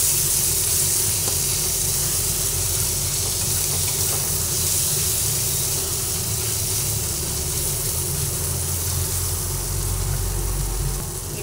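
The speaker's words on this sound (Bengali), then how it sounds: "রসুন আর আদা দুটো দিয়ে দেওয়ার পরে একসঙ্গে আবার সব ভেজে নিচ্ছি" Sankar fish fries with garlic and ginger in a pan, giving a loud, continuous hissing sizzle close up that holds steady throughout, with no talk.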